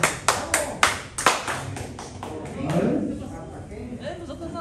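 A few people clap in sharp, separate bursts during a class on air conditioning, refrigeration and electrical wiring, with voices talking over and after the claps, then the clapping fades into chatter.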